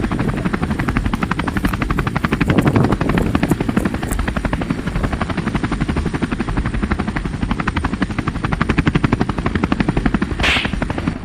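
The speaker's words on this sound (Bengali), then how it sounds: "হেলিকপ্টার এটা" A helicopter sound effect in a comedy sketch, with loud, close, steady rotor chopping throttling on throughout and a constant engine whine underneath.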